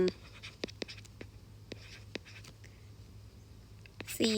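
Pen strokes on paper while working a math problem, a series of short, sharp scratching taps at an uneven pace over a low steady hum, with brief speech at the end.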